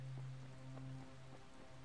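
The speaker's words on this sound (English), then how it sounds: "A little bit of rain." Light rain in the video game Dying Light, a faint, steady patter of drops under a low hum of game ambience, with no talking.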